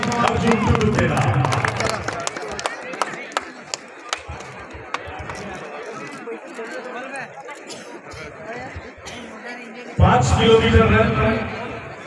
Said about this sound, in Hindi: प्रथम स्थान के लिए तालियां आपकी थोड़ी कमजोर है और जोरदार तालियां होनी चाहिए